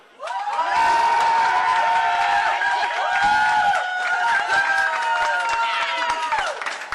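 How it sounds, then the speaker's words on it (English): A large crowd cheers and claps loudly for winners being announced at a bowling event, a sustained roar of voices and applause rising quickly and holding for several seconds. "Everybody, I want you guys to cheer when I announce the winners"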